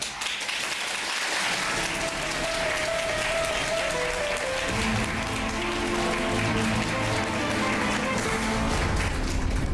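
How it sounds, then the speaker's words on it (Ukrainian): Sustained applause from a studio audience at a Russian talk show, dense and steady clapping filling the whole stretch without pause, with a faint voice briefly underneath near the start. "Спасибо вам за присутствие и за ваши аплодисменты."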